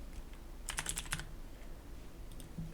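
A short burst of computer keyboard typing, quick clustered keystrokes near the mic for about half a second, then a few faint taps, over quiet room hiss with no talking.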